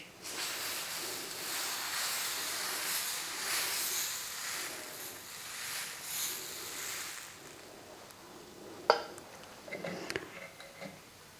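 Millet adai batter poured onto a hot tawa on low flame, producing a steady broad sizzling hiss that pulses gently for several seconds, then fades, followed by a few light clicks and taps.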